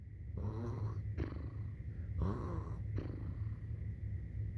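A reader's voice imitates snoring, giving three slow, drawn-out rasping snores with short pauses between them, close and fairly quiet.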